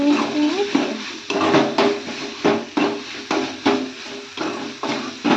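Metal utensil scraping and knocking against a cooking pan while ginger garlic paste is mixed in, a steady series of close, repeated strokes with no talking.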